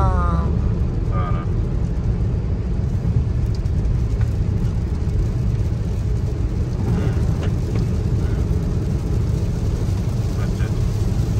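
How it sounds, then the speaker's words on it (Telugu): Heavy rain falls on a car being driven, a steady broadband wash of rain blended with road and engine rumble that stays loud and unbroken throughout. "Now we are entering the వర్షం."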